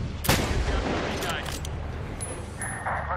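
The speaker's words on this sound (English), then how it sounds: "we're taking fire" Gunfire bursts in the Medal of Honor: Warfighter video game, a sharp loud blast followed by scattered cracks and rumbling, with shouted voices mixed in over the short clip.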